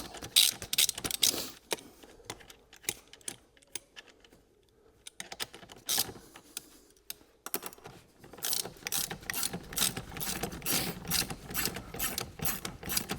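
Socket wrench tightening the rear axle nut on a 48V 1200W electric dirt bike, rapid ratcheting clicks in bursts with short pauses, close and fairly quiet.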